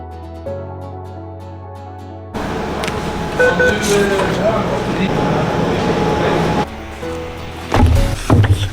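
Inside a moving train: a steady low rumble and rattling carriage noise, with squeals and clunks, and a brief tonal chime at the start.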